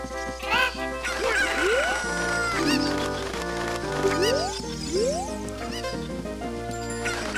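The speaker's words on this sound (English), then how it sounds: "Hey, pick up the chickens!" Game chickens cluck and squawk in repeated rising calls in The Legend of Zelda Ocarina of Time, several short bursts over a steady bed of background music.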